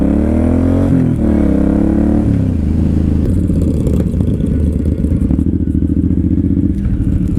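Suzuki Boulevard M109R muscle cruiser motorcycle being ridden, a loud continuous deep engine drone with a rise in revs early, then steady rumbling with wind roar.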